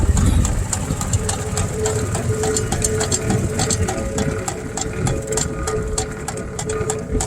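A small engine running steadily with the clutch engaged: a close, loud, even mechanical drone with a rapid ticking pulse, birds faintly audible in the background and no talking.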